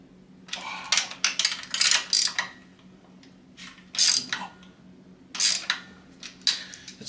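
Ratchet cranking down the clamp bolts of a Black Widow exhaust on a Yamaha XSR900, close and crisp, in three bursts of rapid clicking separated by short pauses.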